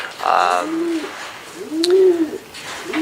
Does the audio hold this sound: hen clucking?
no